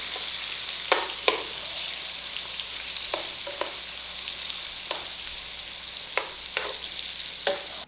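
Onions and mushrooms sizzle in a pan with a continuous soft frying hiss, broken by a series of sharp clicks and taps as the vegetables are stirred and moved around, heard close and without talking.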